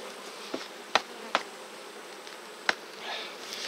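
Honey bees buzz around hive frames during honey extraction as super boxes are removed, a steady insect drone with several sharp clicks and knocks from handling the frames.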